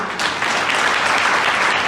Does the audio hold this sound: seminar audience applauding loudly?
yes